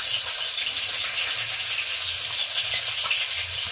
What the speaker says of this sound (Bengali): আবার ওর জন্য ডিম ভাজতে হবে